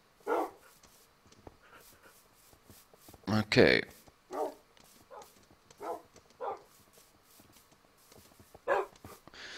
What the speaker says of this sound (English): No, I have like tons of dogs now.